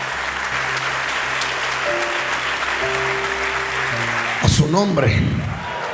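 A church congregation claps in sustained applause, with steady keyboard tones underneath, before a preacher's voice rises loudly near the end.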